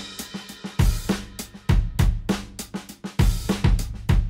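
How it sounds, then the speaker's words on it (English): Short electronic drum loop playing in Ableton, punchy kicks and snappy hits repeating in a steady groove, loud and close with no voices. "So here we've got a drum sound, which is just a little loop that sounds like this."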